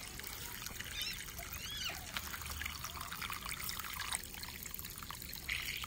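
River water runs and trickles at a soft, steady level, a continuous liquid flow set as the backdrop of an animated dinosaur scene.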